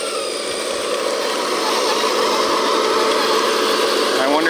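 Electric motors of a 10-wheel-drive, 10-wheel-steering RC snow plow truck whine steadily at close range, a continuous buzzing drone that rises slightly in pitch near the end.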